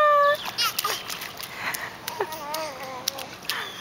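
A child splashes while swimming in a creek pool, light splatters of water under chirpy child babbling and adult voices, with a sharp burst at the start.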